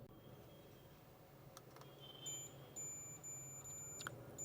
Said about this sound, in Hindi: ये भी बजर मोड पे आपकी बीप करेगी।